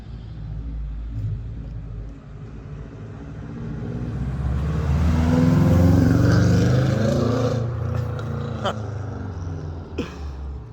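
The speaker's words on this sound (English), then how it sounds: "The engine sounds a lot healthier, doesn't it" A Subaru Forester engine runs nearby, its rumble swelling steadily to a peak and then easing back to a smooth idle.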